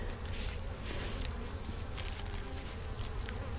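Honey bees drone around a beehive frame in a dense, continuous buzz, loud and close, with faint tapping and handling noises mixed in and no speech.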